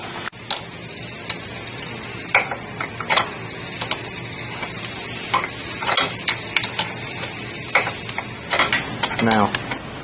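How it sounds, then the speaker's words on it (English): A ratchet clicks in short, uneven bursts while tightening the belt tension bolt on a Harley-Davidson Sport motorcycle, close and fairly quiet against a faint background hiss. "So I need to tighten the tension bolt up some more."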